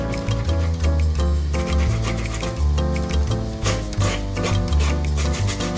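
Live seafood is brushed to scrub off black dirt, producing a loud, continuous scrubbing and rasping with a quick back-and-forth rhythm, close and unbroken throughout.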